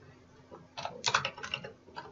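A short burst of typing on a computer keyboard, with quick, close, fairly soft clusters of key clicks lasting about a second and a half.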